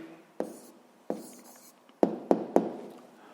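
Pen or chalk writing on a surface during a sixth-grade maths lesson: a few separate taps and short scratchy strokes, close and fairly quiet, with no talking.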